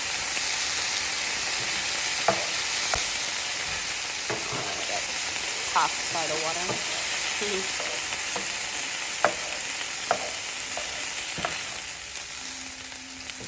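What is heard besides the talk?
onions sizzling in pan with added water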